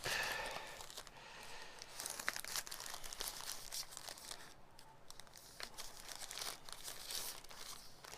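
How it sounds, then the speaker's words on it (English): A sheet of paper folded and crumpled around pumice powder, close and quiet continuous crinkling and rustling with no talk. "I'm just going to put some of this pumice on a piece of paper and close it up."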